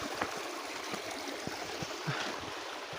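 Water flows steadily at the Digre temple in Rukum, a continuous, moderately faint outdoor rush like a stream, with no voices over it.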